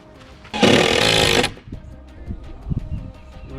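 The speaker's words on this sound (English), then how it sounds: "and then I'm gonna drill a hole and mount that." A power drill whirs loudly in one steady burst lasting about a second, drilling a hole to mount gate hardware, followed by quieter clunks and handling noises.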